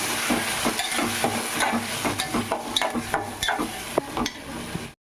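Chicken curry ingredients with a few cashews fry in a pan on the stove while a utensil stirs them, giving steady close sizzling with repeated scraping and clinking strokes, and no voices.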